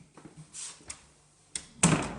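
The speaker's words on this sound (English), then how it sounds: "I'll just shut this door in case the cat goes in" An indoor door being shut at home: a few soft handling knocks and rustles, then a firm closing thud near the end, heard close with no talking.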